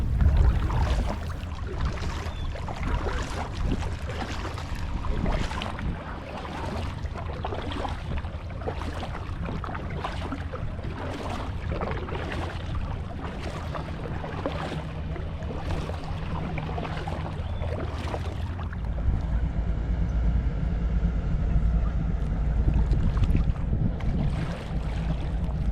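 Kayak gliding across a lake, with steady low water and wind rumble and repeated soft paddle strokes in a regular rhythm, the boat loaded with beer cans and bottles; no talking.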